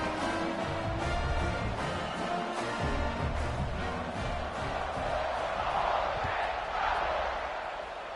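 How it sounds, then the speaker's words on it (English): Stadium crowd at a college football game roars steadily just before the kickoff, a broad sustained wash of cheering and noise that stays loud throughout. "They're set to kick it off, and this crowd now ready to get behind them."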